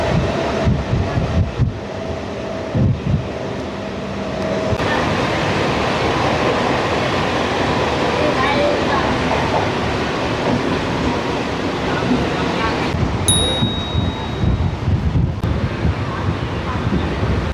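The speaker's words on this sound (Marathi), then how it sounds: "म्हणजे आता इथे पळणार आहे ट्रेन सुसाट" A Virar–Dahanu suburban local train runs at speed, a steady loud rumble and rushing wind noise filling the whole stretch, with a brief high whine near the end.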